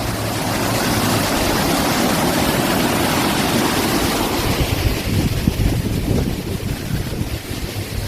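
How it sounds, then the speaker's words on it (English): Strong wind blowing steadily outdoors on a cold day in Ohio, a loud continuous roar buffeting the microphone and easing slightly toward the end. "Stop being windy. You can be cool, just don't be windy, please."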